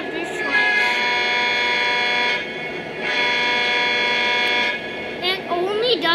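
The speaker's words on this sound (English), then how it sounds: "when you honk the horn, the ditch lights will flash" A Union Pacific diesel locomotive horn blares loud and close in long sustained chord blasts, broken by brief gaps, with a voice briefly heard near the end.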